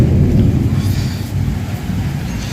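Thunder during a rainstorm over a village on a windy, rainy morning: a deep, sustained rumble that rolls on loudly and steadily for the whole stretch, with rain and wind noise mixed in.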